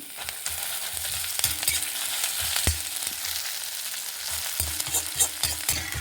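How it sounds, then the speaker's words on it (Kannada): Mustard seeds splutter in hot oil with fenugreek and chillies for gongura chutney, sharp scattered pops and crackles over a soft sizzle, close and fairly quiet, with occasional stirring knocks. "ಸಾಸಿವೆ ಪಟಪಟ ಪಟ ಅಂತ ಇತ್ತು ನೋಡಿ"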